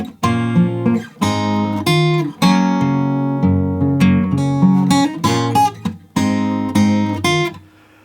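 Guitar plays the opening line of a song, with ringing chords and picked notes in a steady rhythm, heard alone at close range.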